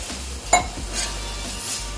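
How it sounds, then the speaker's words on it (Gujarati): A few spoonfuls of water go into a hot pan of garam masala for aloo ragda, a brief splash followed by a steady sizzling hiss and the scrape of stirring, close and moderately loud. "હવે મસાલો બધો બળી ન જાય એટલા માટે આપણે અંદર 2-3 ચમચી જેટલું પાણી નાખીશું"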